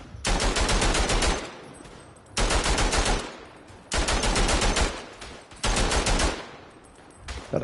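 Bursts of machine gun fire in the WW1 trench shooter Verdun, four loud sustained volleys of rapid shots, each about a second and a half long, separated by short gaps with a faint tail.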